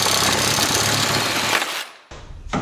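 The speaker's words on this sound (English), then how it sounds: "when all else fails, sawzall it" A reciprocating saw cuts through a broken hockey stick clamped in a vise grip, giving a loud, close, rapid buzzing rasp that chatters steadily, then drops out for a moment and picks up again briefly.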